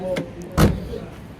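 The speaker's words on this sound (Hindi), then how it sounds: "हमारी नई गाड़ियों से भी खूबसूरत तरीके से इसके दरवाजे ओपन और क्लोज होते हैं" A 1982 Toyota Corolla's door swinging and shutting with a solid thunk close by, one main impact preceded by a lighter latch click, with a faint voice murmuring in the background.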